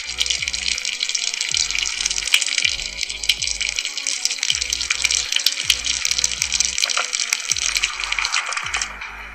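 A tap runs in Last Day on Earth, a steady hissing wash of water pouring continuously throughout, with faint rhythmic low thumps underneath and no talking.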